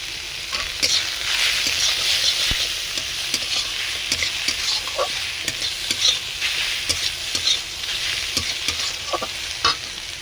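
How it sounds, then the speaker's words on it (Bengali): Spinach-leaf (pui shak) dish with salt, turmeric and dried chilli powder sizzling and frying in a pan while a spoon stirs it, steady close crackle broken by scraping strokes, no voices. "কিছুক্ষণ এইভাবে নাড়াতে থাকবো"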